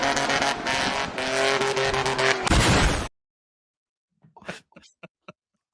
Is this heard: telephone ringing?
no